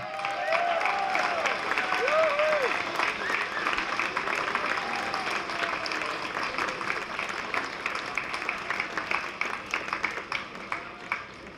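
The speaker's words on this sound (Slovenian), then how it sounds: "Dajmo še en bučen aplavz" Loud, sustained applause and clapping from a large outdoor crowd of marchers at a pro-life march in Ljubljana, dense and continuous throughout, with occasional voices and cheers mixed in.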